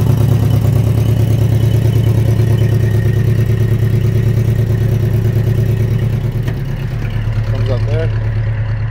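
1980 Subaru Brat flat-four idles and burbles through a rebuilt exhaust, a steady close, low pulsing rumble with a slight tail-off near the end.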